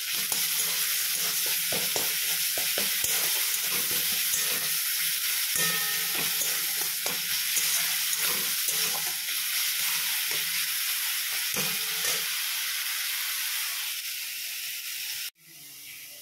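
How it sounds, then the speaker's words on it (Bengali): Ginger, garlic, onion and tomato spice paste sizzles and hisses steadily in a hot wok, with repeated scraping stirs throughout, loud and close, before the sizzle suddenly drops away near the end. "এদিকে মশলাটাও আমার প্রায় কষা হয়ে এসছে"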